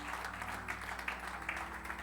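A church congregation claps for Christ during a Spanish-language service, with a soft, continuous patter of many hands over a steady low hum, fairly faint and distant.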